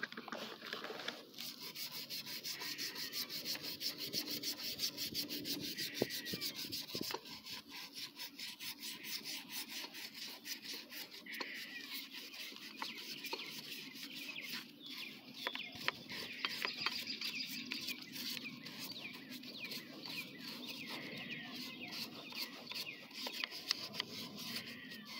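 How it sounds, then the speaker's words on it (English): Scrubbing scooter parts for a 72cc two-stroke scooter build, with a brush rasping in quick, continuous back-and-forth strokes close to the microphone, steady and fairly quiet with no talking. "it's going to be a whole lot of scrubbing"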